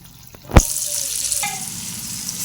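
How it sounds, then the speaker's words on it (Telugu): Chopped onions dropped into a hot pan with whole spices such as cumin, cinnamon, cardamom and cloves, plus green chillies, burst into a loud sizzle after a sharp clatter, then settle into steady frying. "ఇప్పుడు ఆనియన్స్ కొంచెం మగ్గేంత వరకు వేపుకోవాలండి"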